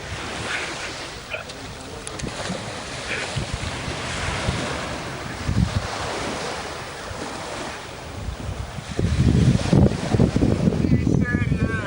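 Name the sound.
sea waves and wind at Mondello beach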